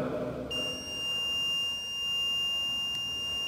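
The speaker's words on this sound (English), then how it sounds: "he can alarm the surroundings from his mobile phone so that he can switch on the buzzer" A DIY IoT smart-home alarm system's buzzer switches on after a brief pause, sounding one steady, shrill electronic tone that holds without a break, fairly close and clear.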